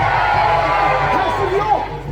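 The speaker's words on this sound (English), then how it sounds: "House Lancaster, cheer if you would set fire to their rooftops." A crowd at a Wars of the Roses show at Warwick Castle cheers for House Lancaster, a steady mass of voices holding at an even level throughout, with a few shouts rising out of it near the end.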